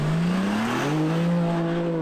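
A BMW M3 engine revs high against the rev limiter, a steady strained tone with rising harmonics that climb and hold, heard from inside the car.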